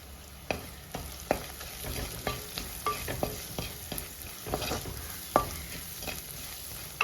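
Cassava pieces with Kashmiri chilli powder and spices are stirred in a frying pan for mezhukkupuratti, with soft scraping taps from a spoon over a low, steady sizzle and no talk.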